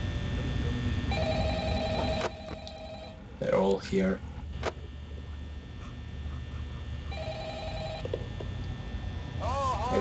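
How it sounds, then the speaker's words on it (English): A telephone rings in the video game Five Nights at Freddy's, two trilling bursts separated by a pause, with a person talking briefly between them. "Okay, there's a phone call."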